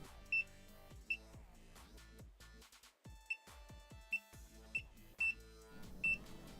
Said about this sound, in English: you can turn the fish alarm on, and I've set mine to come on just when there's a large fish in the area